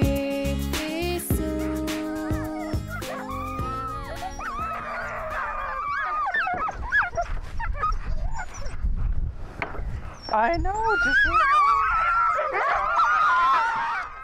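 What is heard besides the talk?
hungry sled dogs howling and whimpering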